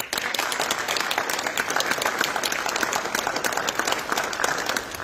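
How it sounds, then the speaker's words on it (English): Banquet audience at a hockey team event applauding, a dense, steady burst of many hands clapping throughout. "please give yourselves a round of applause."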